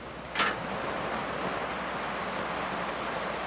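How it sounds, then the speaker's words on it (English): Glacier runoff water in the Swiss mountains rushing down through grids into catchments, a steady broadband roar with one brief sharp splash near the start. "Swiss power engineers have built a series of catchments where the glacier runoff drops down through grids like this"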